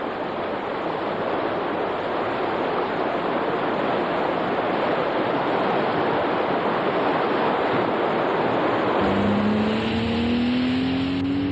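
Steady loud rush of Goodyear Aquatred tyre spray on a wet road and road noise throughout, with a rising engine tone joining near the end.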